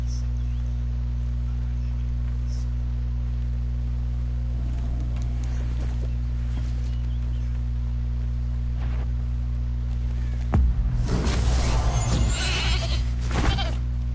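A sheep bleats in the Hogwarts Legacy video game after a wolf is transformed, a brief bleat burst near the end over a steady low game hum and ambience.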